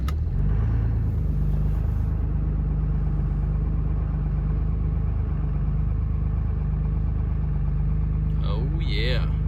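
A straight-piped Cummins dump truck engine idles on a cold day with a loud, steady low rumble that continues throughout, and a brief higher whine rises near the end.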